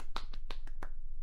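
Polite golf claps, five or six soft separate claps in a slow even rhythm, close and alone.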